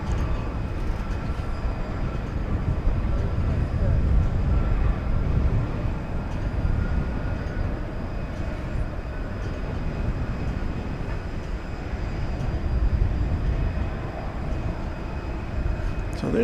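A jet airliner on takeoff from runway 18 Left at DFW Airport at night, a broad, steady engine roar that swells and fades slightly over the span, heard from a distance at a plane-spotting point.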